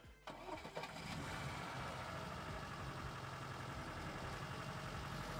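A car engine cranks and catches within the first half second, then settles into a steady, close-up idle with a constant low rumble for the rest of the clip.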